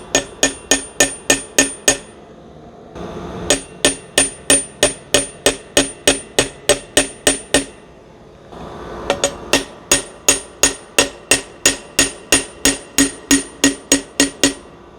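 A 20mm pilot driver is hammered to seat a wheel bearing on a Honda Rebel 1100, sharp metallic strikes in steady even runs separated by brief pauses, loud and close with no talking.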